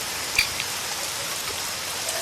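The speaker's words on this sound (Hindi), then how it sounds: "शायद ये बारिश शाम तक बंद ही हो जाए।" Steady rain falling in a cartoon scene, a soft even hiss of drops with a few brief patters, moderately faint and with no voices.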